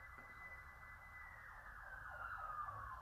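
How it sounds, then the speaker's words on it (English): A faint, distant siren wails steadily in the background for a few seconds, its tone wavering slightly over a low ambient rumble. "Siren break."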